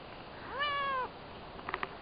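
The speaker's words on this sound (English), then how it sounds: "1 minute later you'll turn around and meow at the door" A cat lets out one clear, drawn-out meow close by at a door, followed by a couple of faint soft taps.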